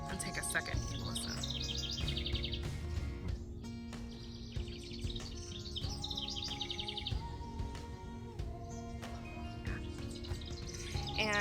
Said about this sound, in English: I have a ton of birds. And take a second and listen.